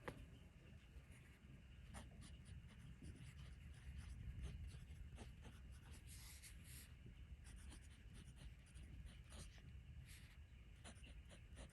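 A Sailor 1911 fountain pen with a 21K music nib scratching across paper in steady, close strokes, a soft continuous rub with a faint low background rumble and no talking.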